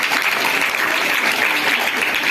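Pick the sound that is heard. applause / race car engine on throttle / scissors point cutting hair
applause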